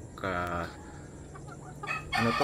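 A roundhead gamefowl hen gives a drawn-out, nasal cluck, then after a pause a louder burst of clucking, close by on a farm.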